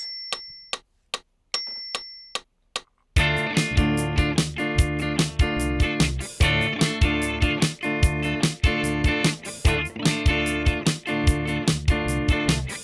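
A few sharp metronome-like clicks lead in, then a BR-800 drum machine preset beat in 4/4 kicks in with chugging rhythm guitar and bass guitar playing together loudly.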